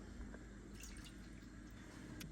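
Half a cup of water poured into a baked beans mixture with ketchup and chili powder for Kansas City-style beans, giving a faint, steady liquid trickle with small drips and splashes throughout, very quiet and close.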